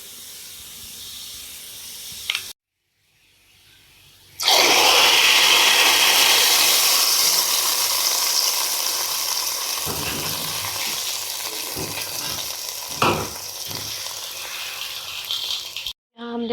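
Golden brown fried onions hit hot kadhi curry with a sudden loud hiss, and the sizzling stays strong and steady for the rest of the stretch, with a few clinks and scrapes over it and a quiet gap before it begins.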